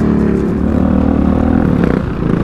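A loud, steady ATV engine drone with rough revving through a stock exhaust, close by and continuous on a trail, with clattering mechanical noise over the top and no talking.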